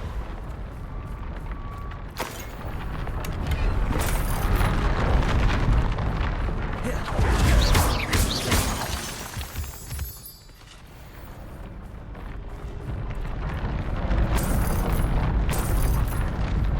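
Explosive Bombarda and Confringo spells in the video game Hogwarts Legacy, loud booming blasts and bursts repeating through the stretch, with a brief lull near the middle, under someone shouting spell names.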